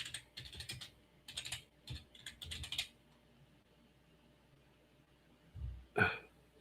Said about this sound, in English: I'll have to type it in.